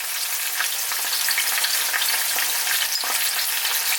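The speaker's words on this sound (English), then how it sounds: "saute it until the onion turns golden brown" Sliced onions with cinnamon sticks, cloves and cardamom sauté in a pan for chicken curry, giving a loud, steady close-up sizzle with occasional stirring scrapes throughout.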